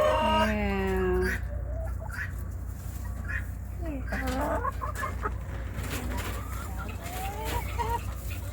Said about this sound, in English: Go down to the chickens.